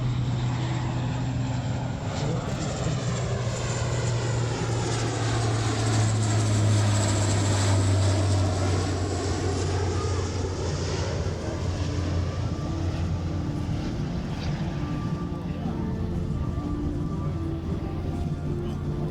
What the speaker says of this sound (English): Inbound now from the right, and what they refer to as a simulation of an airdrop.